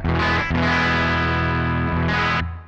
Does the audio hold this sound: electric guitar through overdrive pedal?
yes